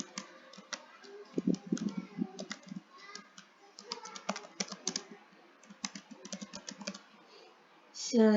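A label is typed on a computer keyboard during statistics data entry: quick, close, quiet keystrokes in uneven bursts and short pauses, ending with a brief louder rustle.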